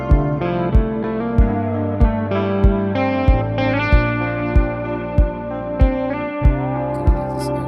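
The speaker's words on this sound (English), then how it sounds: "Kinda like this echo." An electric blues take recorded in Logic Pro with an echo effect, each sharp plucked note or hit repeating in steady echoes over a sustained ringing bed, loud and continuous with no talk.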